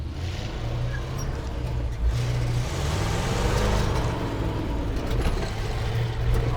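A 1968 C50 ramp truck engine running steadily, a loud close low rumble with a continuous drone and no talking.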